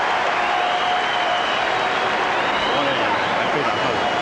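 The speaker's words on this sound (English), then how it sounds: "And there's the cheer from those in the crowd who bet the over." At a boxing match, a crowd roars and applauds in a dense, steady wash of noise that stays loud and unbroken throughout.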